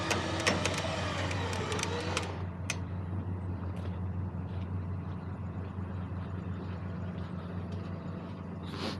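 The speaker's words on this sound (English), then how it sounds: "It's dragging that tire." A hotshot pickup truck, damaged after being hit by a drunk driver, rolls along dragging a wrecked tire, giving a steady low rumble and grinding with scraping clatter and a few sharp knocks near the start.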